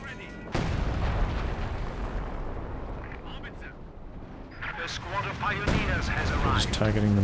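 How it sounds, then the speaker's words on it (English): Artillery fire booms out during a Company of Heroes 2 match, a loud blast near the start and another later, over a continuous rumble of battle with a commentator talking throughout. "Can make another attempt at killing that howitzer with the major artillery."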